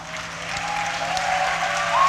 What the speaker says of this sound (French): Je vous demande de l'applaudir très fort, s'il vous plaît.